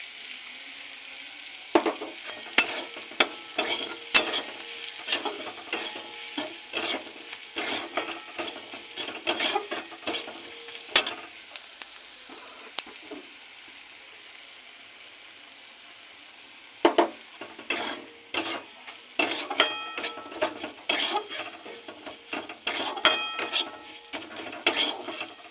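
Bitter gourd stuffing made with chickpea flour being stirred and fried in a pan, a low steady sizzle under bursts of clattering, scraping spatula strokes with quieter pauses between, close and without talk.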